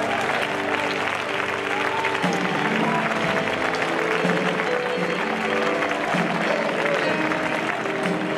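Church congregation applauding together, a steady dense clapping that fills the room with music or voices mixed underneath.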